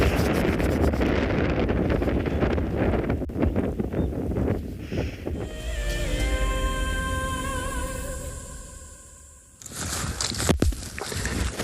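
Wind gusts buffet the microphone on an open safari vehicle drive in South Africa, a steady broadband roar that stays near and loud throughout, with a brief tonal hum in the middle and a stronger burst near the end.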